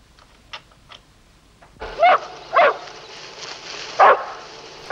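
Dogs in a video game bark several times, a few faint yips first and then louder, closer woofs at uneven intervals over a low ambient background.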